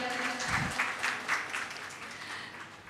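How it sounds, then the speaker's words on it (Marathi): An audience at a live stage music performance applauds the musicians, a moderate wash of clapping from a crowd in a hall that gradually tapers off over a few seconds. "आपल्या ह्या वादकांसाठी पण एकदा जोरात टाळ्या होऊ द्यात"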